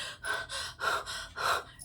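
A voice imitates breathless panting, with four or five quick, rhythmic gasping breaths in and out, close and fairly soft.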